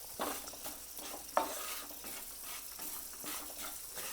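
Sesame seeds dry-roasting in a pan, stirred with a faint crackling sizzle and repeated soft scraping strokes, with one sharper click of the spoon against the pan near the middle; steady and close, with no talking.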